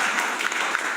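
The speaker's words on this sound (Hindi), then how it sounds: "अरे एक बार जोरदार तालियां।" Audience applause, a dense burst of many hands clapping loudly and continuously at close range.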